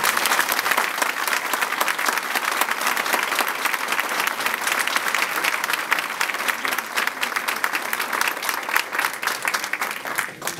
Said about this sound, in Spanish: te enviamos desde Panamá a Chitré este aplauso